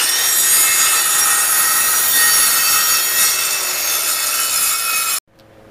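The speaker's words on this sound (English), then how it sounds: "Time to start cutting some tenons." A hand saw rasps steadily and loudly through wood while tenons are cut for a traditional workbench rail, in continuous strokes that end suddenly near the finish.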